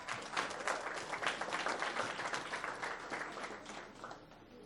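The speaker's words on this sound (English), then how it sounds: "Let's give them a round of applause." Audience applause for school staff being recognised at a school board meeting, a steady, dense clapping from a room of people that holds for several seconds and eases slightly at the end.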